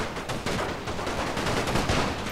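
Dense musket volley from massed troops on a Napoleon Total War battlefield, a continuous crackle of many overlapping shots rolling for about two seconds, loud and close with no talk.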